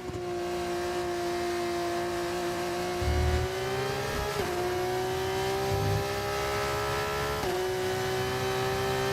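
A race car in a driving video game holds a steady high engine whine over a fast lap, with revs shifting up and down between gear changes and short low thumps underneath.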